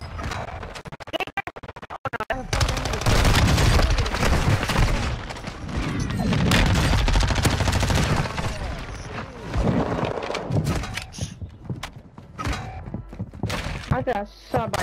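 Rapid automatic gunfire in a first-person shooter game, with dense bursts of shots, thuds and scrapes coming in sustained loud stretches broken by short pauses, fairly close and harsh.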